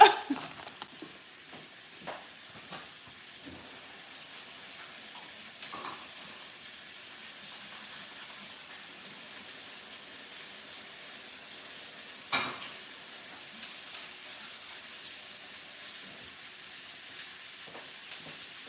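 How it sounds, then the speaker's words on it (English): Pork tenderloin frying in oil in a pan, a faint, steady background sizzle broken by occasional sharp pops and clinks, with no talking. "so I'm like cooking my meat"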